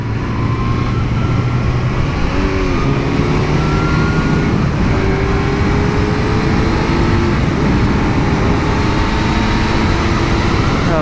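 A Kawasaki Z900 motorcycle engine runs on the open road, a loud, steady drone that rises and falls in pitch with the revs, blended with continuous wind rush.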